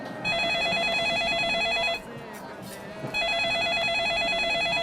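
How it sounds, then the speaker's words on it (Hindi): An electronic telephone ring sounds in two loud trilling bursts separated by a short pause, with quiet room noise between them. "फोन की घंटी बज रही है"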